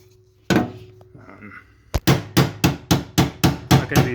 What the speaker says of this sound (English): I'm thinking I'll just come in here and kind of hammer that in place